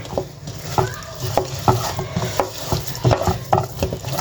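Fish pieces being mixed by hand or spoon in a bowl with a light spiced gram-flour coating, giving repeated soft wet stirring and clacking strokes at a steady rhythm, close by, with some faint talk.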